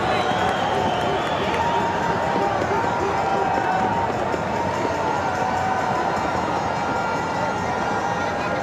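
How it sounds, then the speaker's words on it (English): A large cricket crowd roars steadily at Pallekele stadium during a Sri Lanka versus England one-day international, a continuous loud wash of cheering and chatter that holds without a break. "This crowd really is blowing up here"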